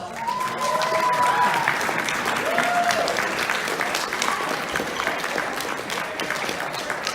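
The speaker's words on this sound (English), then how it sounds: "Let's give them a round of applause" A convention audience at Animinneapolis 2019 breaks into a steady round of applause, dense clapping filling the whole stretch at moderate volume, with a few faint whistles or cheers mixed in.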